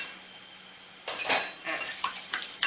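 A salad of horseshoe crab eggs being tossed in a bowl, quiet at first and then a close run of clinks and scrapes of a utensil against the dish.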